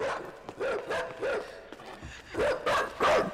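Dogs in the video game Inside bark in a series of sharp, fairly close yaps, with a denser cluster of barks toward the end.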